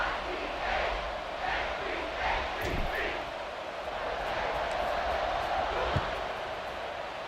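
A stadium crowd in the EA College Football 26 video game sends up a continuous, moderately loud roar of cheering before a kickoff, with a few sharp thuds breaking through the sustained noise.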